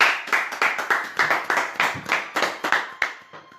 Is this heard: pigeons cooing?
no